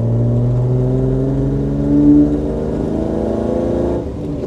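A four-wheel-drive car's engine pulls steadily while driving, a low humming drone whose pitch rises gently as it accelerates, close and fairly loud, with no voices.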